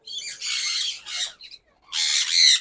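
Sun conure parrot squawking close by: several harsh, piercing bursts in quick succession with short gaps between them, loud and alone.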